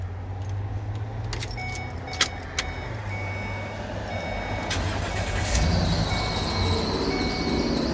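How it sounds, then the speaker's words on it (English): A 2013 Ford E250 van engine turns over and settles into a steady low rumble, with a brief jangle of keys and traffic passing nearby. "this van starts and runs."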